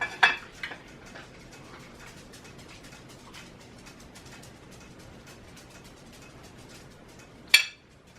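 Cooked rice being served onto plates with utensils at home: a few light clinks and scrapes of metal on dishware, sparse and fairly close, with one sharper clatter near the end and quiet room tone between.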